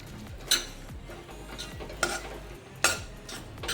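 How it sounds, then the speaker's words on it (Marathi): A spoon stirs spice masala into ground soybean for bhurji in a pan, with soft scraping and a light sizzle, broken by three sharp metallic knocks against the pan's rim. "आता हा आपला मसाला आणि हे सोयाबीन आपण जे बारीक करून घेतलं आहे ते छान मिक्स करून घेऊया"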